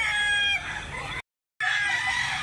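Rooster at a rural poultry sale in Mantalungon, Barili, Cebu, crows loudly and close, the call cut by a short silent gap before the crowing resumes.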